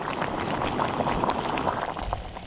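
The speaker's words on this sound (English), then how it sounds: "It's boiling." Water bubbles and roils at a rolling boil close by on a camping stove, a continuous busy gurgle with small pops, no voices.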